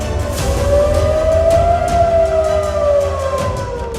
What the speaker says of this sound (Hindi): दक्षिण कोरिया में सारी रात सायरन बजता रहा।